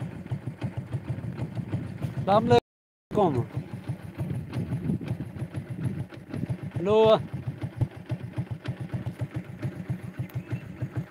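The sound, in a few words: motorcycle engine idling during repair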